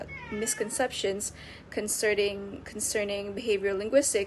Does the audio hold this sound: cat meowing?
yes